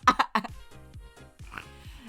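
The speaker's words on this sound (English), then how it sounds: "I started coughing" A burst of harsh coughs up front, then a string of short, rough, grunting throat sounds close to the microphone.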